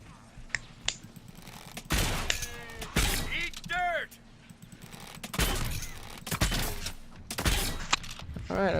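Gunfire in the video game Dragon Age: Inquisition, several sharp shots and bursts with crackling effects spread across the stretch, mixed with game sounds and voices talking over them.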